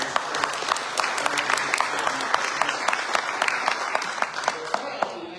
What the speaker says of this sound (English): Let's give them a round of applause for the question.